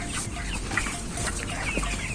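Broiler chickens in a flock, 43 days old, cluck and murmur continuously in a poultry house, a dense layer of overlapping soft calls with occasional sharper chirps over a constant low background hum.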